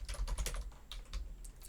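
Quick bursts of keystrokes clatter on a computer keyboard, close and fairly quiet, in an uneven rhythm of taps with short pauses.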